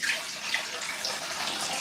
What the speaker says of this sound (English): It's a bit too much water there. Let me dump a bit of that out.